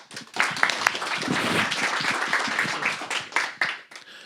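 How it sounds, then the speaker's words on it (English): Conference audience applauding to welcome Des Traynor of Intercom to the stage, a close, vigorous round of clapping with distinct individual claps that thins out near the end. "Big round of applause."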